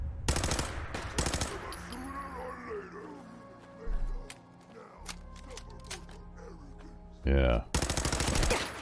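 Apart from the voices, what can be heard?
gunfire shooting a raider in video game Fallout 4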